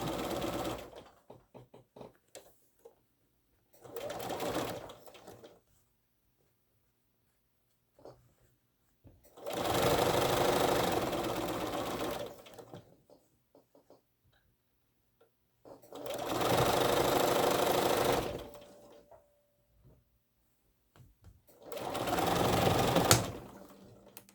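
A sewing machine stitches quilt block pieces in four separate whirring bursts of a few seconds each, close and moderately loud, with quiet handling sounds in the pauses between runs.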